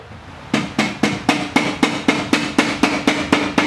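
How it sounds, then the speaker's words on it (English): A motorcycle rear air shock on an M8 Softail is tapped into place with a hammer: about a dozen sharp, evenly spaced knocks at a regular rhythm, close and loud, with no talking. "There's just a couple taps and then it seats."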